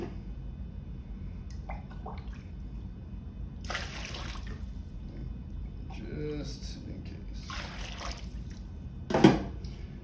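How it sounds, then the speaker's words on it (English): Water being scooped and poured out of a filled Anova sous vide water bath, with soft trickles and splashes, one louder splash near the end, under occasional speech. "I think I'm gonna take a little bit of water out."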